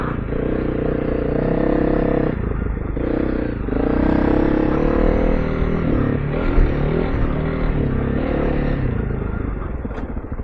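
A Honda CRF300L Rally trail bike fitted with a new exhaust rumbles along a muddy trail, its engine note rising and falling steadily at moderate volume with some clattering, and no talking.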